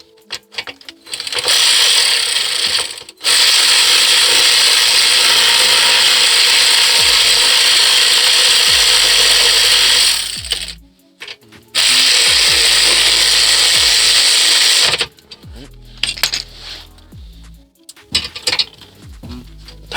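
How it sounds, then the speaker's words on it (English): A power tool whirs in two long sustained bursts, driving brake caliper screws back in during a rotor and brake pad change, then short ratcheting blips at the end; no talk over it. "And we're going to tighten them back up. Run them back in real quick."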